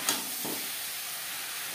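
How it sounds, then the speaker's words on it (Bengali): Spinach being stirred together with pumpkin and eggplant in a pan gives a brief scrape near the start over a steady soft sizzle and hiss that carries on alone at a low level. "কুমড়ো বেগুনের সাথে শাক বেশ ভালো করে মিক্স করে দেবো।"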